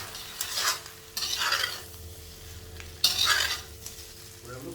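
Chicken being stir-fried for chow mein, a spatula scraping and tossing in a hot pan in several bursts of sizzling, with quieter frying between, close and without talk.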